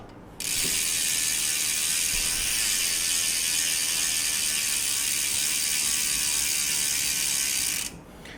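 Road bicycle rear wheel hub on a Twitter Stealth Pro RS disc-brake bike spinning freely, a fast, even freewheel ratchet buzz starting abruptly, holding steady for about seven seconds, then stopping.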